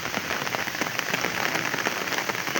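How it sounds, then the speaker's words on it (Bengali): Light drizzle falls steadily over a village, a soft continuous patter of raindrops on surfaces with no voices, even and close throughout. "গুড়ি গুড়ি বৃষ্টি হচ্ছে।"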